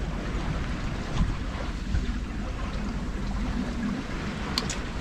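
On a sailboat on the Saint Lawrence River near Île du Bic, steady wind buffets the microphone while waves wash against the hull, with a constant rushing bed and a few soft splashes over about five seconds.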